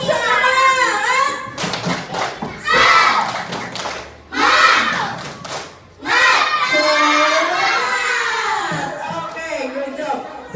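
A class of third-grade schoolchildren performs the tepuk semangat clapping chant, with loud group voices and rhythmic hand claps in several energetic bursts separated by brief pauses.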